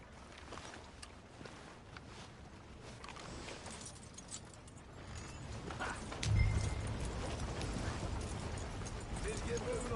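A horse's hooves clip-clop in a PS4 video game, soft and steady under game ambience, with voices talking over them.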